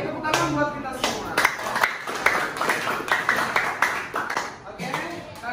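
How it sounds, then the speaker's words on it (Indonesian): A classroom group claps after a student group's presentation during a teacher performance assessment session, with scattered, uneven hand claps under voices and chatter throughout. "tepuk tangan buat kita semua"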